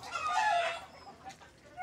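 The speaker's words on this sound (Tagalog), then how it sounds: "Nakakuha na kami ng isang manok." A caught chicken clucks and squawks nearby in a short, loud burst, then trails off into quieter background noise.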